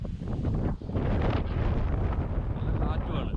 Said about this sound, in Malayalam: നല്ല കാറ്റുമാണ്.